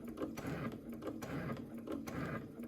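A sewing machine stitching thick, heavier-than-cotton fabric at a slow pace, its needle thumping in a steady, even rhythm of repeated mechanical clacks with a low motor hum underneath.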